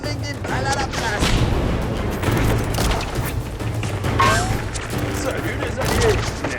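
Gunfire rings out in a First World War battle scene, a dense, continuous clatter of volleys and booms lasting throughout, with voices talking over the shooting.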